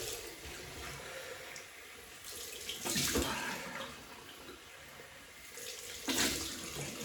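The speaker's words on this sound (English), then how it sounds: "Cold water rinse." Cold water pours steadily from a tap for a shaving rinse, a broad hissing splash that swells louder in two brief bursts.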